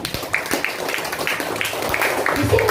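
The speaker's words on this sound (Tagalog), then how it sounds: "Pumalakpak po ang mga gising." A church congregation clapping their hands during a sermon, a loose, fairly steady run of sharp claps that builds slightly louder toward the end, with talking over it.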